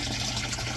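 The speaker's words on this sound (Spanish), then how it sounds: "Y el agua empieza a caer aquí." Water pours steadily into a home discus aquarium in a brief, continuous splashing rush, close and fairly quiet.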